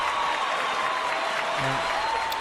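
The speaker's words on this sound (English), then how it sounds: "That's a long cheer." A canned cheer sound effect plays on a podcast, a steady wash of distant applause and crowd noise that runs on evenly for the whole stretch, with a brief voice-like tone near the end.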